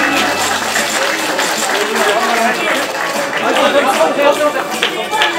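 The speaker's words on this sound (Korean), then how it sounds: "큰 박수 부탁드립니다." Applause from an assembled party caucus greeting a newly elected floor leader, a dense sustained wash of clapping from many hands, mixed with crowd chatter and spoken announcements.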